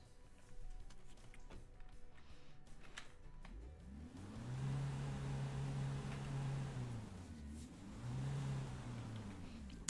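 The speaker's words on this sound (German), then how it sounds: "Na, fahren wir halt mit der Karre." A car engine in Autobahn Polizei Simulator 2 starts up and drones steadily as the vehicle pulls away, the hum swelling and dipping with a second rise near the end, over quieter background game sounds.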